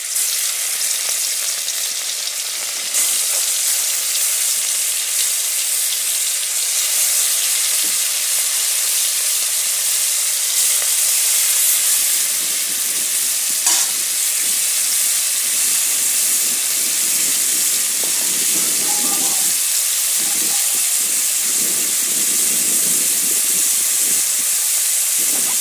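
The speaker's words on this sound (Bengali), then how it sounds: "মাছগুলো ভেজে নেব।" Fish, likely prawns, frying in hot oil in a pan: a loud, continuous hissing sizzle with crackles and occasional pops and clinks, lasting throughout without talk.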